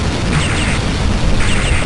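Explosions from the video game Metal Slug 7 roar in a dense, continuous loud barrage of booms and blasts with no pauses.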